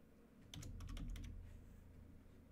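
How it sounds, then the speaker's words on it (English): A quick burst of keyboard typing, several crisp keystrokes in a cluster, fairly close, followed by a low room hum. "Now on your canvas, you can click and drag, and you can start typing a word."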